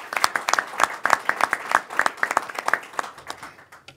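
Audience applause for Senator John Brooks, a dense run of many hands clapping at a steady, lively pace that fills the room, thinning out slightly toward the end.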